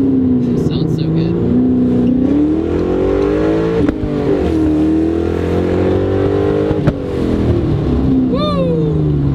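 A 2004 Ford Mustang Mach 1 engine revs and accelerates hard, its deep tone climbing through the gears with two brief shift dips, loud and close, and a voice whoops briefly near the end.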